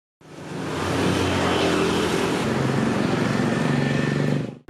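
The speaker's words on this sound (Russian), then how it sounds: "Тут очень шумно на центральной улице." Busy traffic fills the central street of Ubud, Bali, with scooters and cars rumbling past in a loud, steady wash of engine noise close by.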